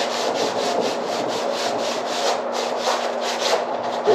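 Crumpled tin foil scrubs rust off metal in quick, repeated back-and-forth strokes, a close, dry rasping rhythm that continues steadily with no voices.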